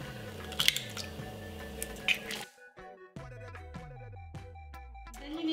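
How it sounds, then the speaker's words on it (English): Eggs being lightly beaten in a bowl for whoopie pies, a series of soft, wet, rhythmic squishing strokes close by and fairly quiet, with a short pause midway before the beating continues. "Next, you need to lightly beat the egg"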